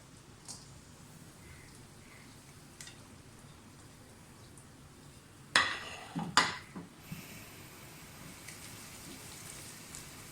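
Onions sizzling in about three quarters of a cup of hot cooking oil in a pot, a steady soft hiss like rain, broken midway by a few sharp clanks of a pot or utensil.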